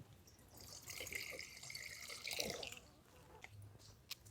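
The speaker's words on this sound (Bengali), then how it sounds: "উনুনটা ধরিয়ে কড়াটা বসিয়ে দিচ্ছি কড়াতে দিয়ে দিচ্ছি জল" Water poured into a karai set on a lit stove while cooking gargara pitha, a burst of splashing and gurgling for about two seconds that then fades into faint kitchen noise.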